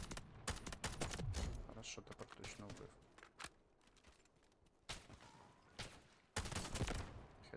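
Gunfire in the video game Delta Force: dense bursts of rapid automatic fire crackle in clusters with pauses between, mixed with footsteps and scraping, close and loud.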